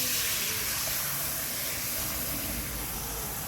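Water pours into a pot for kare kare sauce in a home kitchen, a steady loud hissing splash that runs continuously throughout.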